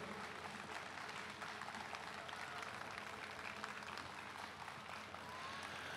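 Sustained, even applause from a jazz festival crowd in Taichung thanking a jazz quartet, a dense wash of clapping that holds steady throughout with no voices.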